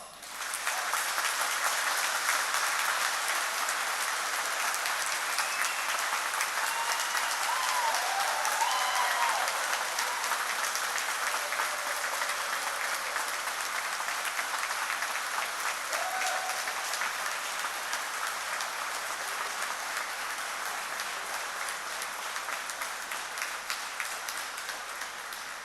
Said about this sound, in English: we welcome him with our thunderous applause.